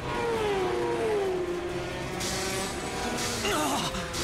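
Anime motorcycles whine and rev with rising and falling pitch, joined midway by sharp crashing bursts, in a loud, busy mix of motor noise.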